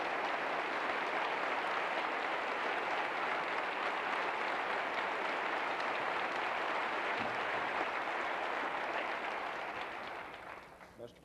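Sustained applause from a large audience at a university lecture, a dense, even roar of clapping that holds strongly for about ten seconds before tapering off at the end.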